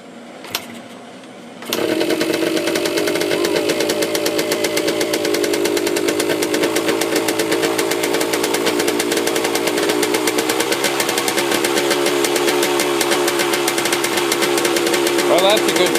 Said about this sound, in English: It is burning pretty smoky, as two-strokes tend to do. It is, but it has started up.